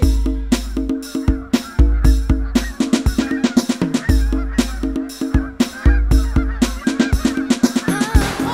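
Geese honking loudly and repeatedly in a close, overlapping flock chorus with sharp rhythmic calls and squawks.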